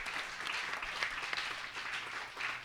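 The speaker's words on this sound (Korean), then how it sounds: "우리 교사들에게 우리 한 박수 한번 보내주세요" Church congregation applauding teachers at a Sunday morning service, a soft, steady wash of many hands clapping at a distance for a few seconds.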